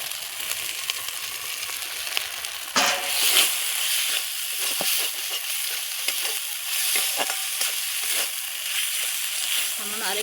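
Soaked figs dropped into spiced oil in a pan burst into a loud sizzle, then a steady crackling fry with stirring scrapes that continues close up, with faint distant music in the background.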